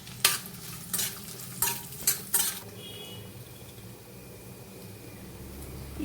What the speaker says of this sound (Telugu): ఈ డ్రై ఫ్రూట్స్ని వేయించుకోవాలి.